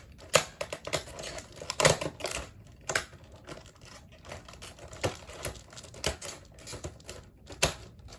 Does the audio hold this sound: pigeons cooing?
no